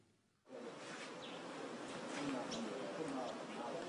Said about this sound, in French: Ici, c'est l'hôtel Sheraton pour les mouches.